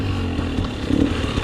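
KTM 300 XC-W TPI 2020 two-stroke dirt bike engine at low revs in third gear on a Florida trail ride, a steady loud close drone with small throttle swells, no talk.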